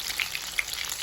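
Romanian meatballs (chiftele) frying in hot oil in a pan, a dense close sizzle with scattered sharp pops and crackles.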